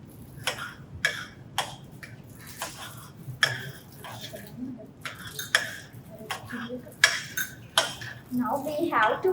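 A spoon stirring a thick mixture in a metal cooking pot, with repeated sharp clinks and scrapes against the pot in an irregular rhythm, fairly close and moderately loud.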